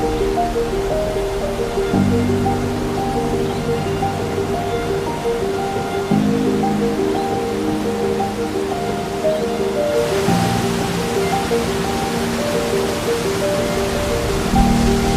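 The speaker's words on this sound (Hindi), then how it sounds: "इतनी फोर्स से पानी गिर रहा है, इतनी तेज़ आवाज़ आ रही है" Steady, dense roar of falling water fills the whole clip, loud and close, with a constant hiss and low rumble and no voices.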